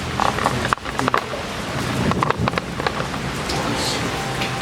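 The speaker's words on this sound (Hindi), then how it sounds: "बारिश हो रही है बाहर, मैं जा नहीं सकता और बारिश बड़े ज़ोर से हो रही है" Heavy rain falls outside a house in a dense, steady hiss at loud level throughout, with a few sharper patters and knocks near the start.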